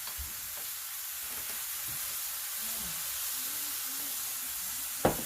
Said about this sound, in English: We're gonna saute these.